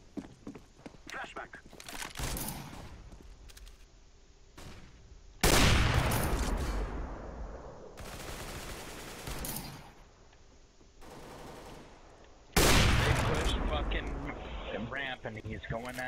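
Rapid bursts of gunfire ring out in a Counter-Strike: Global Offensive match, two loud sustained volleys standing out among scattered footstep-like clatter and quieter shots, with a player's voice talking over parts of it.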